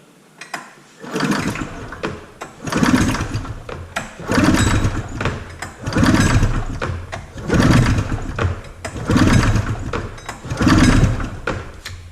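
A snowmobile engine is pulled over with the throttle wide open for a compression test: six loud, evenly spaced cranking bursts, each a rough churning rise and fall close by.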